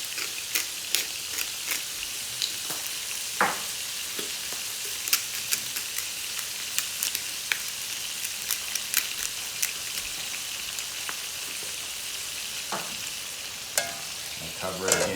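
Hamburger patty frying in a covered pan, a steady close hiss crackling with frequent sharp spits and pops, no voices.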